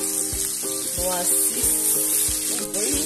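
Onions sizzling steadily in a casserole over lowered heat, a constant hiss running beneath background music with a regular thumping beat, and a voice speaking briefly.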